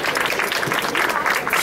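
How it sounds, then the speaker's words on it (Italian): A festival audience applauds in a short burst of dense, continuous clapping, with voices mixed into the crowd noise. "Fategli un applauso."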